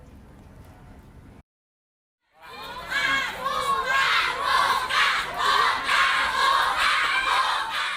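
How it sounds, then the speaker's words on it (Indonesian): Hundreds of primary school pupils at SD Negeri Bunisari in Ngamprah, West Bandung, shout together in a loud, sustained crowd roar after a brief quiet gap, rising suddenly and continuing steadily. "Teriakan buka dari ratusan murid SD Negeri Bunisari kawasan Ngamprah"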